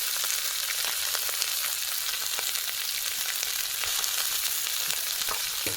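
Leafy greens hit a pan of frying fish head, garlic, radhuni and green chillies, giving a loud, continuous close sizzle and crackle throughout with no voices.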